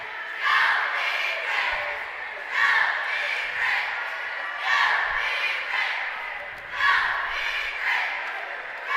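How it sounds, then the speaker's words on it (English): A high school basketball crowd in a gym cheers and shouts in loud, swelling waves, surging about every two seconds. "And listen to the crowd."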